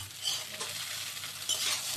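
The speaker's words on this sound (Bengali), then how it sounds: "ডিমের ভুজিয়াটা দিয়ে নাড়াচাড়া করে নিলাম" Chow mein with potatoes and fried egg is tossed in a hot pan, a soft continuous sizzle with scraping stirring strokes, fairly quiet and without talk.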